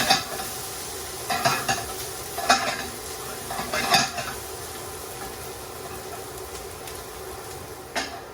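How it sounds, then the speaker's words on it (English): Ginger and garlic slices frying in a pan for a chicken jalfrezi, a continuous soft sizzle broken by several sharp scrapes and knocks of a utensil stirring against the pan, close and moderately loud. "we fried the ginger slices and the garlic slices for approximately 3 minutes"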